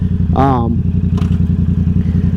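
A 2023 Yamaha R7 motorcycle fitted with an M4 exhaust idles with a steady, close, throbbing low rumble, while a short burst of voice rises briefly over it near the start.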